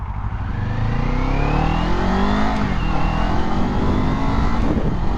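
A 2024 Kawasaki Ninja 500 engine is revved loudly and steadily up and down, the rising and falling pitch of the close motorcycle engine filling the whole stretch.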